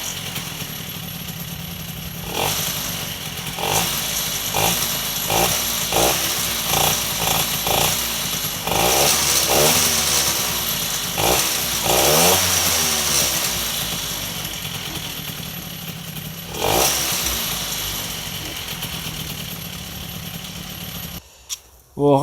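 An MBK 51 moped engine idling with a water pump hooked up, a sputtering, uneven putter with rhythmic pulses and a few rising bursts of revving, close and loud, ending with a sharp clunk.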